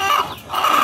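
Layer chickens cluck close by in short throaty bursts, two clucking phrases with a brief dip between them.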